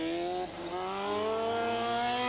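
A 1991 Formula Renault race car at Donington Park drives slowly past, trailing on the ground with sparks at the rear, its engine a steady, fairly loud drone with a dip and then rising pitch as another car closes to overtake.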